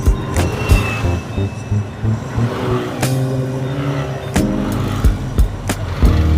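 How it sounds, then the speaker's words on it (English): Vintage cars in a rally pass by on a road through rural villages and paddy fields, engines rumbling with several sharp transient knocks and passing swells, moderately close, no talk. "Vintage car rally."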